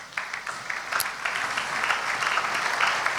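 A church congregation at a Sunday service claps after the scripture reading, with dense, even applause from many hands starting almost at once and staying steady for about three seconds, moderately close.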